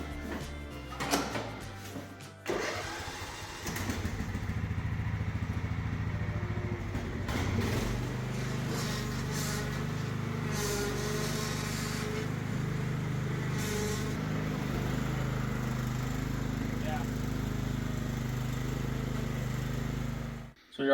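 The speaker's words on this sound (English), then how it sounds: "We're gonna go out there, we're gonna mow some tops down." A riding mower with its deck strapped up rumbles steadily at close range as it heads out to mow potato tops, after a few clunks and knocks at the start.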